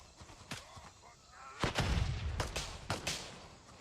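A grenade detonates in the military shooter Gray Zone Warfare, a loud low boom that rolls on, followed by further sharp gunfire bursts in a busy firefight.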